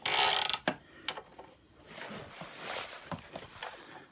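A bike lift being cranked up by hand gives a loud clunk, then scattered ratcheting clicks and mechanical knocks, close by and fairly quiet.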